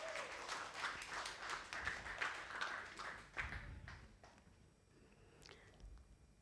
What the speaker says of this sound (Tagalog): Malakas na palakpak para sa Diyos.